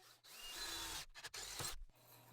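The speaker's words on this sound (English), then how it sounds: "And now I can drill that out." A power drill bores pilot holes in a VW Beetle door jamb, running in close, loud bursts that stop briefly and start again.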